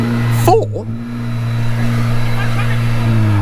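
A hot hatch, either a Ford Focus RS or a Honda Civic Type R, holds a steady high idle-rev drone near the limiter with a sharp exhaust pop early on, close and loud, while people talk nearby.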